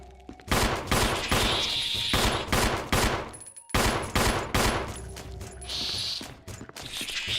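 Video game gunfire: rapid bursts of loud automatic shots arrive in repeated volleys with short gaps between them, along with mechanical clanks and ratcheting sounds.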